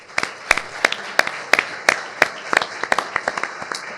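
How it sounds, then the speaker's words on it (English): A small audience at a panel gives a round of applause: sparse, distinct claps in an uneven rhythm, fairly close, with a faint murmur underneath. "You guys join me in a round of applause"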